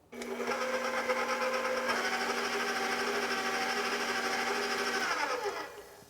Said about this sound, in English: Just give that a really quick mix.